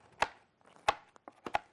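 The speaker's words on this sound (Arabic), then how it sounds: "هنكمل بقيه تقطيع السلطه" Knife chopping vegetables for a green salad on a cutting board, a few sharp close thuds spaced irregularly, the last two in quick succession, with no talking.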